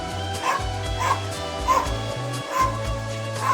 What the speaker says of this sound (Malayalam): പട്ടിക്കുഞ്ഞ്.